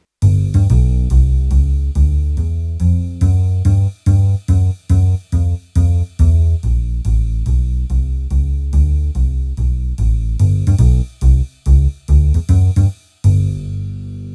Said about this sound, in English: this is the sound of the acoustic bass, but it's also got a ride cymbal on every single note too.